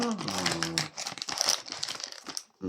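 A surprise bag is opened with crisp plastic crinkling and rustling for about two seconds, close and fairly loud, over the course of the clip, with a voice talking over the start.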